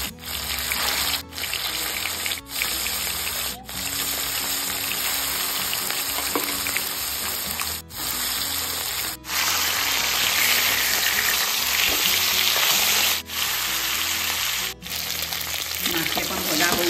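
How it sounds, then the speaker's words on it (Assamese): Fish fry in hot mustard oil in a kadai, a loud, steady close sizzle and crackle that runs throughout, broken by a few short gaps. "মাছকেইকণ ভজা হৈ গ'ল, কাঢ়ি লওঁ।"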